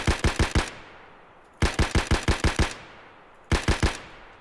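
An SKS semi-automatic rifle fires in Escape From Tarkov, three loud bursts of about four to five rapid sharp shots each, separated by short pauses, with the reports ringing out clearly and no voices.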